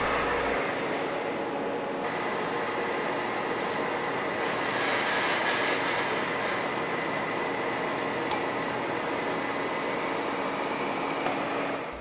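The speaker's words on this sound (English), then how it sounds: "Turn the spindle on. Confirm that the tool is spinning in the correct direction." Milling machine spindle running at 1200 RPM with a 1/2 inch end mill, giving a steady, continuous motor whine and hum at close range, one brief tick partway through, and no talking.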